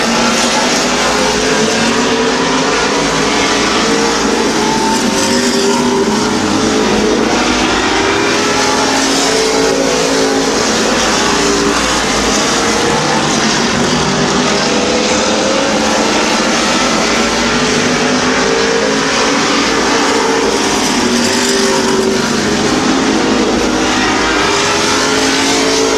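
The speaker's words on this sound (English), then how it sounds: "Here's your third place car, Bert Waller." Race cars lap Midvale Speedway at a 2005 fall classic, a loud continuous engine roar with rising and falling revs as the pack passes close, with no break for the full stretch.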